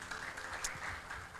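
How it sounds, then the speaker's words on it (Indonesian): A church congregation claps for Jesus during a Sunday sermon, a soft, steady patter of many hands that carries on without pause, fairly faint and distant in the room. "Tepuk tangan buat Tuhan Yesus."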